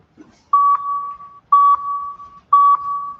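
A training timer sounds three evenly spaced beeps about a second apart. Each is a clear, loud, steady electronic tone close up, and there are short silences between them.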